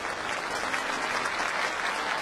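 A baseball stadium crowd at a Japanese professional game bursts into dense, sustained applause, a continuous roar of clapping filling the whole moment.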